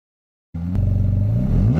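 Simulated Ferrari 458 naturally aspirated V8 engine sound played through a Tesla, starting abruptly after a short silence and revving upward with a loud, rising, buzzy tone.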